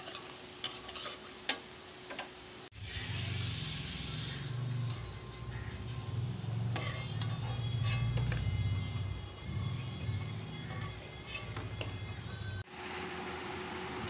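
Jute leaf and potato pakoras made with boiled potato and sour yogurt frying in hot oil in a pan, a steady close sizzle with occasional clinks and scrapes as they are lifted out.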